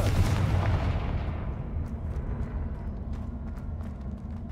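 A Confringo fire spell blast in the video game Hogwarts Legacy, a loud booming burst at the start that rumbles and fades over several seconds, with faint crackles after.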